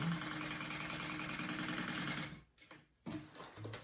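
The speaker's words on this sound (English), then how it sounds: "you could do another row of stitching just to help with the stress put on this corner stitching" A sewing machine runs in a steady fast whir while stitching a second row along a tote bag corner, pausing briefly near the end before starting up again, close and loud with no talking.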